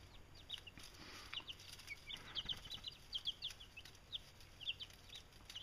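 Young chickens kept in a tent inside a garage cluck and peep softly in scattered, overlapping bursts against a steady low background hum.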